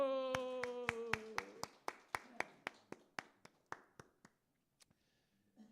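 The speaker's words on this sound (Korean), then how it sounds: "박수" A Methodist congregation at a Wednesday evening service claps in unison in a steady rhythm of crisp claps. A held keyboard chord sounds under the first claps, and the clapping thins and fades into a few scattered last claps.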